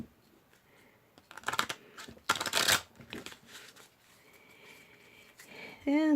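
Tarot cards shuffled by hand in a few riffling bursts, crisp and close, with a voice speaking quietly in between.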